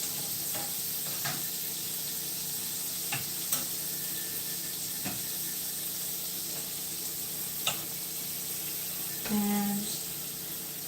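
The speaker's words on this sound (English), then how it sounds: "So you want to flip all your meatballs over evenly." Meatballs sizzle in a frying pan as they are flipped to cook the other side, a steady close crackle broken by a few sharp clicks and scrapes of turning.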